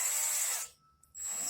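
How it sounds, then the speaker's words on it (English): A power drill spins briefly while a carburetor needle on a 2-stroke generator is being repaired, a loud steady whine that cuts out, leaves a short quiet gap with a small click, then starts again. "Stick it in the drill."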